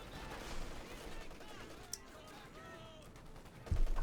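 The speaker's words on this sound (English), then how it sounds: "Thumbs up there to some solid machine gun uses there by Expense Runner" Machine gun fire from an MG-34 in Company of Heroes 2, distant rattling bursts and scattered gunfire in a busy battle soundscape, fairly quiet and continuous with a sharper crack near the middle.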